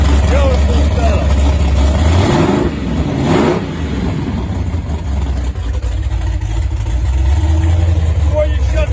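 A car engine fitted with a Canton Accusump pre-oiler runs steadily and loudly at close range, with a brief rev swell near the middle and a constant low drone throughout, while people talk over it.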